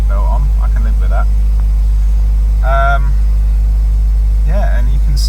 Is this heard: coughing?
no